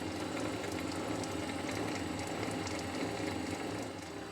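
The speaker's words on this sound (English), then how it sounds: "Got the back gear going on." Milling machine running in back gear while gang milling T-nuts, with a coolant pump nearby: a steady mechanical whir with a rapid ratcheting gear clatter, close and constant, and no speech.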